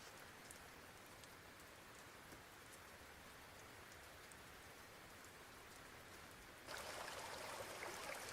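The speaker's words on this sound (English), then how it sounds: "Would like a little bit of rain in the background work?" Steady rain ambience with dense patter of raindrops on a surface, continuous and even, swelling noticeably louder and brighter near the end.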